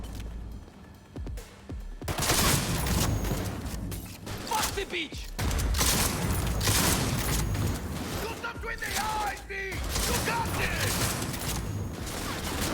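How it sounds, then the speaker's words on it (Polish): Shotgun blasts and other gunfire ring out during a loud indoor firefight in the video game Cyberpunk 2077, with sharp bursts through the clip mixed with clanks, booms and excited talk. "Ten shotgun za dużo nie robi, nie?"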